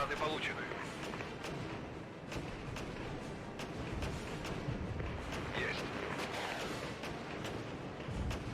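Napalm strikes and artillery rumble in the wargame Regiments, a continuous roar of distant booms and crackling fire with repeated sharp impacts, while someone talks over it.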